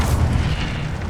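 An Incendio fire spell goes off in Hogwarts Legacy, a short loud booming whoosh of flame with a low rumbling body that holds steady for about a second.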